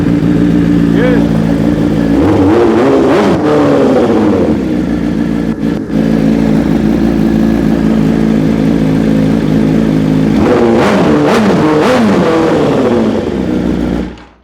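A 2021 BMW S 1000 RR motorcycle engine idles loudly, with two bursts of throttle revving rising and falling, the first near the start and the second toward the end, while a person talks over it.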